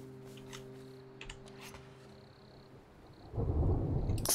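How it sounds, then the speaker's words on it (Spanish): Rain and a rolling thunder crash in the survival game Smalland: Survive the Wilds, with quiet ambient hum and light clicks giving way to a loud, rumbling boom and rain wash in the final second. "No me gusta ese prum de lluvia."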